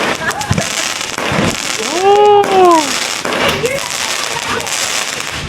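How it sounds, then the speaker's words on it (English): Fireworks bursting during a family Fourth of July celebration, a steady crackle and pop with a loud whistling rocket rising and falling midway, while people talk nearby throughout. "look at the little fireworks"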